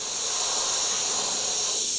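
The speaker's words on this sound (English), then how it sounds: "And now just along this lower edge, I'm going to spray some white." Airbrush spraying white paint along the lower edge of an eyeball and spider themed artwork, a steady close hiss of air and paint running without a break.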